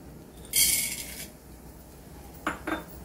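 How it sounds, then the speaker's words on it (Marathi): Dry dal lentils roasting in a pan for curry leaf chutney, stirred with a utensil: a bright scraping rattle near the start, then two short clinking scrapes later, over quiet room tone. "आता आपण डाळ भाजून घेऊया"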